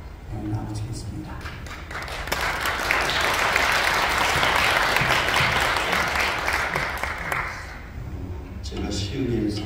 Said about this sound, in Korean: 여러분 큰 위에 박수로 환영해 주시기 바랍니다